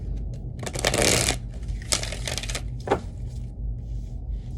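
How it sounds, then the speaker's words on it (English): Reading cards being shuffled by hand, with several bursts of papery riffling and slapping, close and fairly loud, separated by short pauses over a low background hum. "I'm just going to shuffle them one more time for you."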